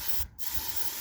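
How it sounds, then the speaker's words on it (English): A short, sharp burst of aerosol hairspray hisses once up close over model-railroad trees, lasting a fraction of a second amid steady background hiss. "And now it's time for hairspray."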